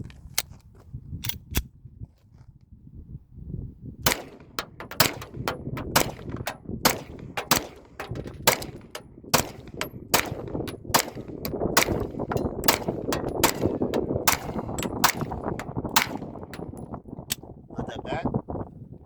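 Springfield Armory XD Mod 3 pistol shots crack out at an outdoor range, sharp and loud, fired in irregular bursts of several quick rounds with short pauses between magazines, with faint talk underneath.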